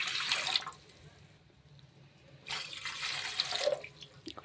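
Water is poured into a pan to make sugar syrup in two splashing bursts, the first short and the second longer, close and clear with a quiet pause between.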